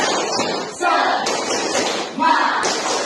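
A group in a discussion-skills class performs tepuk semangat, a rhythmic clapping chant. Sharp clap bursts fall in a set pattern mixed with voices chanting together, loud and close.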